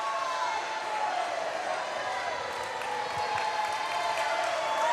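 Volleyball crowd at Ashland's home gym in a regional tournament semifinal, a sustained, loud wash of cheering and applause filling the hall for the full length.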